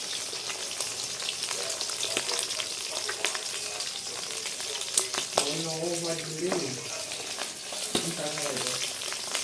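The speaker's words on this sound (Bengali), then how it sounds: "মাছ ভাজা বসাই দিয়েছি" Fish fries in hot oil in a pan, making a steady crackling sizzle with sharp pops. A voice briefly rises over it partway through.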